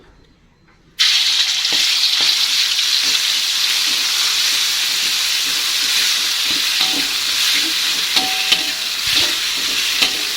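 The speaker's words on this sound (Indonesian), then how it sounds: "jika dirasa minyaknya sudah panas, langsung aja kita tumis bumbunya" Spice paste hitting hot oil for stir-fried water spinach, a sudden loud sizzle bursting in after a second of quiet, then a sustained close hiss with scattered spatula scrapes.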